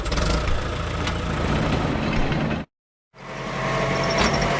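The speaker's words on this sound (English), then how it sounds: "Road roller," Road roller engine idling with a steady heavy rumble, loud and close, cutting out briefly to silence partway through before the same idle resumes.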